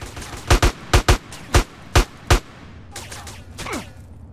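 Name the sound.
gunfire in the video game Grand Theft Auto: San Andreas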